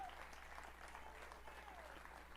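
A church congregation claps steadily and enthusiastically during a Sunday service, a dense, sustained wash of applause heard from within the audience.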